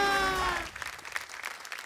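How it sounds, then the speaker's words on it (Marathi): A studio audience claps together on a Marathi TV game show, bursting in after a held musical tone fades, the applause moderate and continuous with a few louder peaks. "जोरदार टाळ्या वाजवा"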